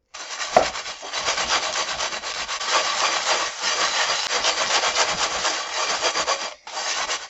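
Play sand grinds against a burnt pot bottom in steady, close scrubbing strokes, a dense gritty rasping that continues almost without pause before a brief stop and a final short burst.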